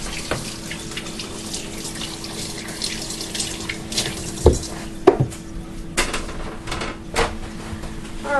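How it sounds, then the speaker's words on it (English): Hands rinsed under a running kitchen sink tap while cooking fish, a steady hiss of flowing water close by with a few louder splashes and clunks near the end, no voices. "let me rinse my hands real quick here"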